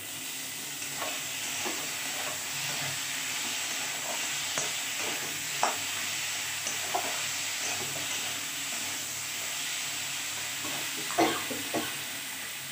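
Mourala fish and potato curry with tomato sizzles steadily in a pan, overlaid by repeated scraping and clinking of a spoon stirring, close and continuous with no talk.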